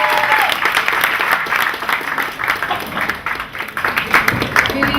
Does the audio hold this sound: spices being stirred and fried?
no